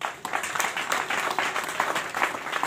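Applause from an audience at a public ceremony where a division chief is honored, a dense, steady patter of many hands clapping at moderate distance.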